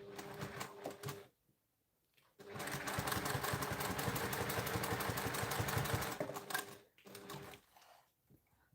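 A sewing machine, due for oiling and cleaning and prone to skipping stitches, stitches a flex-frame sunglasses pouch in loud rapid rhythmic bursts, running steadily for several seconds between short pauses, close by.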